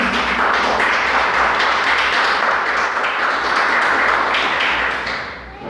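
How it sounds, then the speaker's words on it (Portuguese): A church congregation at a Sunday morning service gives a sustained round of applause, dense and steady, fading slightly at the end. "dê uma salva de palmas para Deus"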